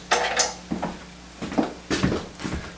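A spoon and a wooden board are handled at an Indian spiced chickpea cooking class, giving a few close, separate knocks and scrapes of wood and utensils with short pauses between them.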